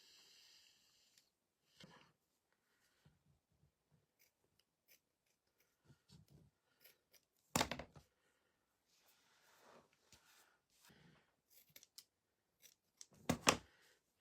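Scissors cutting paper for a Thanksgiving turkey craft, with scattered soft snips and two louder, crisp cuts separated by quiet stretches, close by, with no talking.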